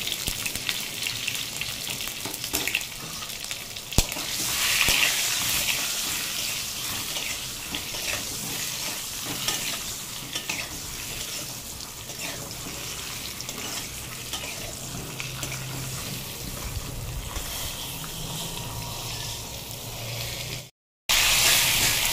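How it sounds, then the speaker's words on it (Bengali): Pointed gourd (potol) shallow-fries in oil with salt and turmeric, a continuous loud crackling sizzle that keeps going steadily for about twenty seconds, broken only by one brief dropout near the end. "পটলগুলো হালকা করে ভাজা হয়ে গেছে"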